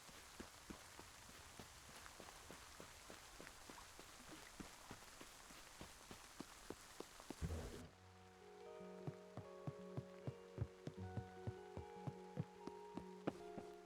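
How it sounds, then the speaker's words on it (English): Rain in the video game Spirittea, a soft steady patter of raindrops with regular light footstep-like ticks, shifting midway to a quieter scene with faint musical tones over the rain. "I like the rain sounds in this."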